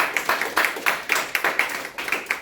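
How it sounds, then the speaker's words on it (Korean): A group of high-school students at a Korean church Sunday service clap together, giving a short burst of irregular clapping in a roomy space with no voices over it. "자, 박수."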